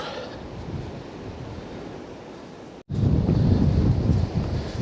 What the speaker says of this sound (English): the winds literally rip through this mountain